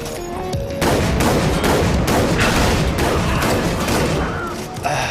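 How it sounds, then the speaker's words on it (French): Rapid gunfire from the Far Cry 3 Blood Dragon video game fills the moment, a dense, loud barrage of overlapping shots and booms that continues without pause, with a shotgun among the weapons being fired. "j'y vais au fusil à pompe"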